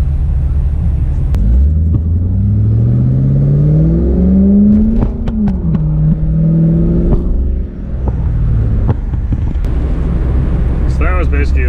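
A 2000 Pontiac Trans Am with an LS1 V8 idles in a deep, steady rumble, then climbs and falls through a gentle rev at light throttle, loud and close, before settling back to idle.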